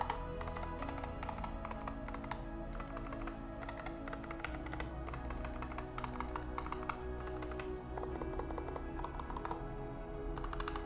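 Steady, close typing on a Nuphy Air60 low-profile keyboard with Gateron Brown switches, a continuous run of soft, rapid keystrokes with no talking.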